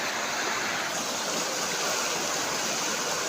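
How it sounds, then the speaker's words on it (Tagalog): A mountain river rushes steadily in a continuous broadband wash of flowing water, loud and close, with no voices over it. "Nandito ako ngayon sa ilog."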